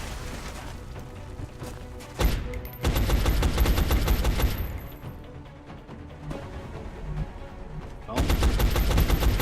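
A soldier lays down sustained suppressing fire in XCOM: Enemy Unknown, loud rapid automatic bursts in long stretches with a short lull between, and a brief voice exclaims once.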